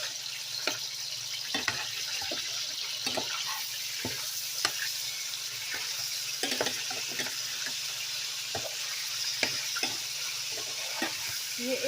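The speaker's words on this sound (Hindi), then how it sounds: "ये 1 मिनट तक के लिए इसको फ्राई कर लूँगी।" Chicken pieces sizzle and fry steadily in a hot pan, with occasional stirring clicks and scrapes over a constant crackling hiss, no voices.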